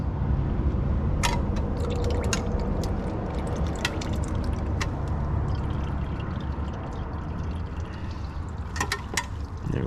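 Transmission fluid from a Nissan CVT drains steadily into a pan, a constant close pour and trickle with a few scattered drips and small clinks, no talking.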